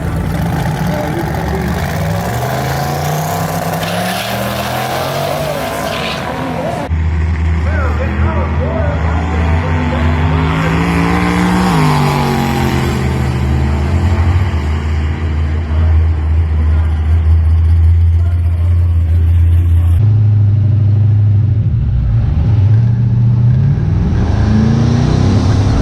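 A twin-turbo drag car on a Holley Terminator X setup with a trans brake idles loudly, then revs and pulls away with a rising engine roar that shifts and builds, heard close over a steady low rumble.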